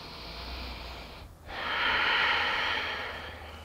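A single deep breath during a yoga exercise, close and soft: a long airy inhale or exhale, a brief pause, then a fuller, louder breath that swells and fades.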